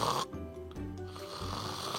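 A person imitates loud snoring, a rough, rattling inhaled snore that runs steadily for about two seconds, close to the microphone and with no other voice.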